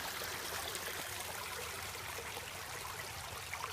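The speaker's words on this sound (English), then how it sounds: "Small creek right here." A small creek runs nearby in a park setting, a continuous broad rushing and trickling wash of water, steady and moderately faint with no talk.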